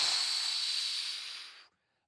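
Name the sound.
forceful exhale during box breathing exercise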